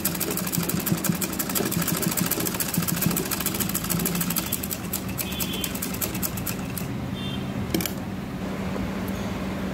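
A sewing machine runs steadily up close, stitching fabric strips onto the sides of a homemade cloth face mask, its fast mechanical whir and rhythmic needle clatter continuous throughout with a few brief pauses near the end.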